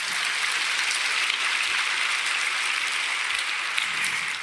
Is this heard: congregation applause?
yes